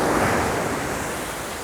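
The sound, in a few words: ocean waves on the shore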